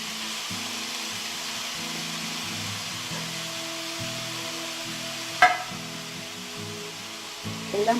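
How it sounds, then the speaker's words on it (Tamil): Grated yellow pumpkin cooks in ghee for halwa, a soft steady sizzle under a droning hum, with a single sharp clink of a utensil partway through. "இந்த நெய்யில் வந்து இது கொஞ்சம் குக் ஆகணும்"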